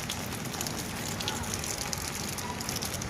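Steady rain falls during a gym outing, a dense, even hiss of drops on surfaces holding at constant loudness throughout, with no talk over it.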